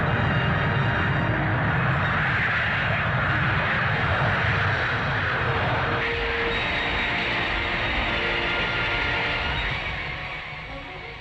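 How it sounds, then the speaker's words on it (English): Red Pelicans RAF twin-seat jet training planes taking off for aerobatic practice at the Central Flying School, a loud, steady engine roar filling the whole stretch, the pitch shifting midway and the sound fading slightly at the end. "the Red Pelicans take off for aerobatic practice"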